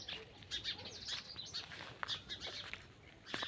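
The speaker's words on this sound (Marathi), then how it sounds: "पक्ष्यांचा आवाज चालू आहे." Small birds chirp on a village morning among trees, short high tweets and calls scattered through a quiet outdoor background, fairly faint and somewhat distant, with no talking.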